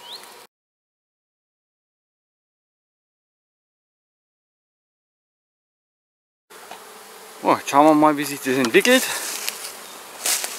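Honey bees buzz around an opened hive box during a hive inspection after a brief burst at the start and a long silence, then a steady insect hum with someone talking over it.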